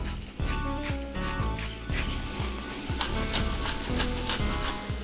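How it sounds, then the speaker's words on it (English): Onions sweating in a pan with salt and pepper for Kazakh beshbarmak, a continuous sizzle over a rhythmic series of thuds and scrapes, with music running throughout. "Dump those in, and we're gonna sweat these until they are translucent."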